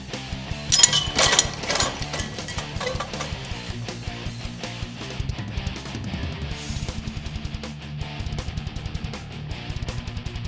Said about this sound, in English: We'll drop the same 8-pound pipe wrench approximately 3 feet.